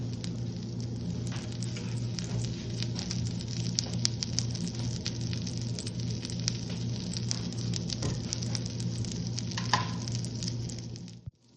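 Half a teaspoon of butter sizzling in a heated pan, a steady close crackle and hiss with faint pops, continuing without speech.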